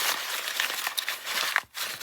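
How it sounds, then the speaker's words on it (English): Mamigami, a paper-like material, crinkles and rustles as it is handled close up, a dense run of crackly crumpling with a brief pause near the end. "it definitely sounds like paper"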